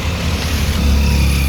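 Vehicles drive past on a road on the way to Gwalior, a loud, close rumble of engines and tyres rolling by without pause.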